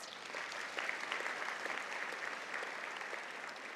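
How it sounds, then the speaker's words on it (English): A crowd at a graduation ceremony gives a round of applause, steady, even clapping heard from a distance at a fairly low level throughout. "If we could have a round of applause for each one of us."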